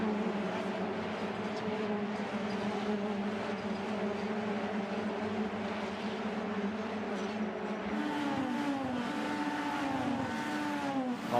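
Single-seater race cars accelerate out of a right-hand corner, engines droning steadily and then rising sharply in pitch as they get back on the power, loud and fairly close.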